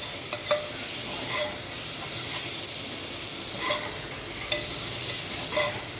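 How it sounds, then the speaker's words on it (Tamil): Onions and tomatoes sautéing in a pan for a chicken curry, a soft continuous sizzle broken by a few light scraping stirs at irregular intervals, close and fairly quiet. "வெங்காயத்தோட தக்காளி சேர்ந்து நல்லா வதங்க ஆரம்பிச்சிருச்சு"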